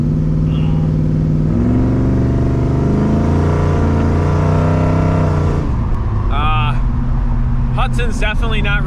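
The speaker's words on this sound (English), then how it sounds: "Hudson's definitely not running right" A 1928 Hudson rat rod's engine runs rough with a loud, close, uneven droning idle that shifts pitch partway through, while a voice talks over it.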